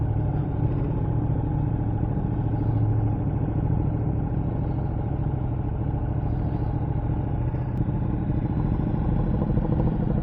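A Ducati Panigale 959 Corse motorcycle crawls through stop-and-go traffic, its engine a close, steady low rumble with clattery mechanical texture and no speech.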